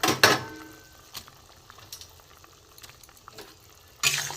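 Fish roe bora curry with potatoes simmers in a pot with soft, faint bubbling and sizzling, and louder clattering knocks come near the start and again at the end.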